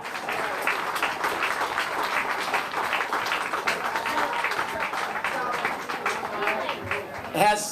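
Crowd applause at an outdoor addiction-awareness rally, a sustained, even wash of many hands clapping for several seconds, with scattered voices mixed in and a louder burst near the end.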